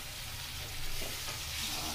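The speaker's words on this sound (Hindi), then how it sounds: "अब इसमें हम जो 1 टमाटर काटे थे बड़े साइज का वो डाल देंगे।" Chopped tomato drops into a pan of softened onions for rajma, bringing a steady close sizzle and frying crackle with a slight rise as it lands, and no voices.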